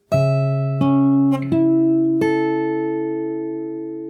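Fingerstyle guitar plays an Animal Crossing New Horizons theme passage: a held two-note bass with several melody notes plucked over it in quick succession, ringing together and decaying gradually, close and unaccompanied by voices.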